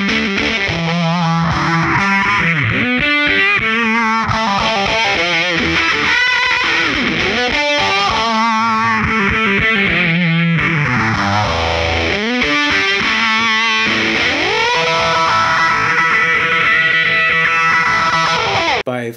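Distorted electric guitar plays a repeating melodic figure with chorus-like effects, loud and continuous throughout.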